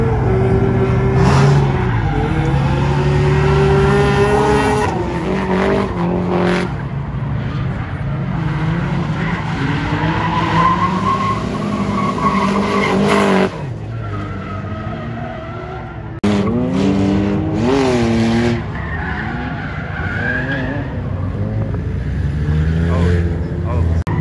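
Cars drift at a drift meet, loud engines revving and wailing while tires skid and squeal in long sweeping passes, with a brief drop in level midway before another car screams past.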